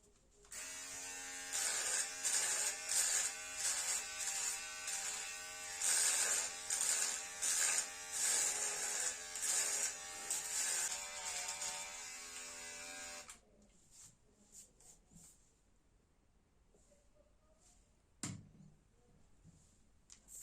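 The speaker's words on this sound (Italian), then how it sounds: "montato questo, guardate un po', accessorio rasoio, vado a rifinire la parte di sotto" A Cecotec Bamba PrecisionCare Multigrooming Pro with its shaver attachment trimming a beard, a close, loud electric buzz pulsing in repeated strokes for about thirteen seconds, then stopping, leaving quiet handling noises.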